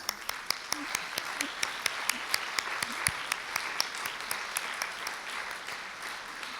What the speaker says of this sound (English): please stand up and let's give them an applause